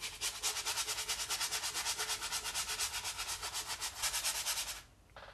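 A brush scrubs linseed oil onto a canvas for an oil painting background in quick, even back-and-forth strokes. The steady rubbing rhythm is close and clear, then stops abruptly near the end.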